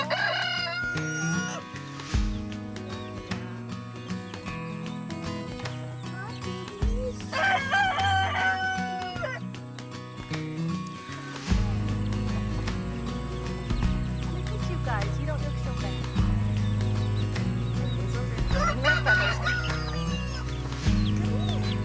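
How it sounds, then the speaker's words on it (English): Roosters crow repeatedly in the background of a busy farmyard where baby chicks are kept, several calls rising over a steady low hum. "You'll hear the roosters in the background"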